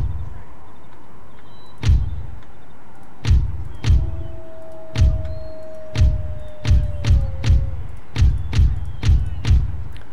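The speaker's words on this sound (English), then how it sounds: "let's bring all the field guns into firepower, into full effect here." Field guns fire in a snowy, sub-zero battle in Empire: Total War: a dozen deep, punchy booms land at irregular intervals, some in quick succession, over a low steady ambient rumble.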